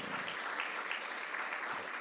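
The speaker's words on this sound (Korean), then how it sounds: "우리 큰 박수로 축복해 주시기 바랍니다" A church congregation at a Sunday worship service applauds to bless a pregnancy, soft and distant steady clapping at low level.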